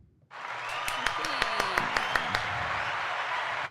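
Steady applause greets a guest on a relationships talk show, a dense even wash of clapping starting abruptly, with several sharp nearby claps standing out and a voice talking faintly underneath, ending suddenly.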